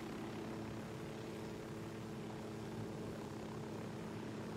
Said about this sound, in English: Oh, come on, helicopter, turn.